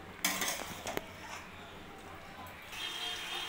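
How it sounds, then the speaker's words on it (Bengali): A spoon stirs cauliflower korma finished with kasuri methi in a metal pot, with a few scraping clinks near the start and then a steady low scrape under room noise. "এবার আমি ভালোভাবে নাড়িয়ে নেব"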